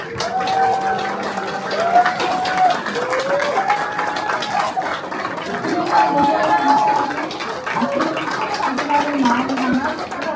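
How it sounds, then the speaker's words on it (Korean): Steady applause fills the room at a campaign office opening as a candidate's wife walks in carrying a bouquet, with clapping holding level for about ten seconds while voices carry over it. "여러분 큰 박수 부탁드립니다."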